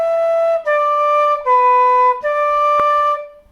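Flute plays a short traditional tune phrase at a trad music workshop, a run of clear sustained notes stepping between pitches with a brief breathy accent near the end, alone and close.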